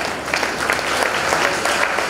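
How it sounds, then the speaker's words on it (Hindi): A crowd at a ceremony honouring the Governor of Assam applauds in a continuous, fairly loud wash of clapping that stays level throughout the short stretch. "जोरदार तालियों से"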